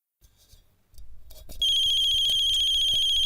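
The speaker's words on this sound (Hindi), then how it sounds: "ये फोन की बेल बजती है" A telephone starts ringing after a few faint bumps, a loud, steady electronic ring tone that holds continuously through the last half of the clip in an otherwise quiet room.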